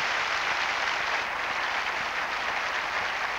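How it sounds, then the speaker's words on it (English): Steady, dense clapping from a large church congregation, loud and sustained throughout with no pauses. "Let's give them a good hand clap"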